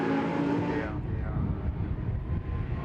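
Lamborghini Super Trofeo race cars at the Nürburgring in a 2019 European race, engines roaring loud and close as they run nose to tail downhill, with a commentator talking over the continuous blare.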